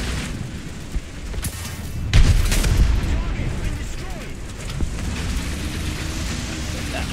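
In War Thunder, a tank cannon fires with a heavy boom and rumbling tail, with a couple of sharper shots around it, set against steady engine and battlefield noise while a player talks.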